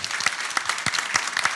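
A church congregation bursts into loud, close applause, dense clapping throughout with sharp individual claps standing out.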